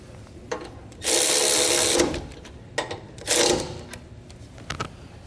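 Bolts on a Blue Ox 2-point weight distribution hitch with sway control are snugged down by a power tool: a long buzzing burst of about a second, then several shorter bursts, close and loud, with no talk.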